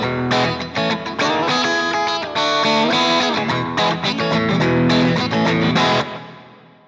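Electric guitar played through an Axe-FX III drive scene, distorted chords and riffs in loud, choppy bursts with brief gaps, ending on a ringing chord that fades out.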